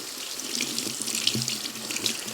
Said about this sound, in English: large jalapeno peppers, we're gonna rinse